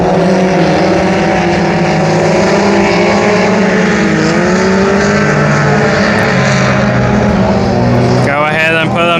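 Dirt-track race cars at Brownstown Speedway during the Bobby Wilson Memorial, loud engines droning and whining as they circle, pitch rising and falling, with a commentator talking over the racing.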